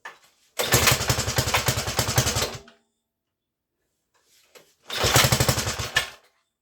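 Two bursts of a small ATV or dirt-bike engine (Trail Horse GTO 300) with choke on, each sputtering and revving about two seconds after a pull-start, separated by silence; loud and close.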